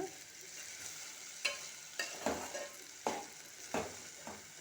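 Okra is stirred and fried in a pan, the steady sizzle of hot oil punctuated by five or six sharp scraping strokes of a spatula, close and evenly spaced.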